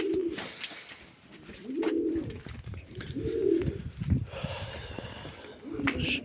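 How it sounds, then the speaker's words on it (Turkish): Pigeons coo repeatedly in low, throaty bursts at close range inside a coop, with rustling and light clatter around them. "Bu kuşların hepsi Arap'ın soyundan."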